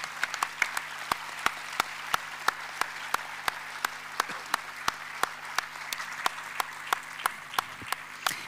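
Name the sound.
audience applause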